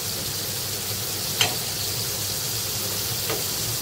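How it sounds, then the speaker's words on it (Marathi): Fish frying in a pan of oil, a steady close sizzle and hiss with two brief sharp clinks or knocks partway through, no talking. "हे बघा, मस्त आपली मच्छी फ्राय होते"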